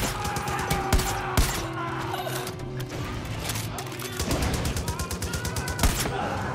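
Automatic gunfire in Far Cry 5, rapid machine-gun bursts with sharp individual cracks and a few louder shots, close and dense, with a voice briefly speaking amid the shooting.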